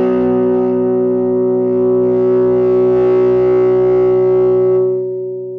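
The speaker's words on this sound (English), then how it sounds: "So now listen to the chord as I turn the volume up." Fender Andy Summers Tribute Telecaster strums a single chord that rings on with preamp overdrive as the volume swells, a thick sustained distorted tone with rich harmonics, loud and alone, fading slightly at the end.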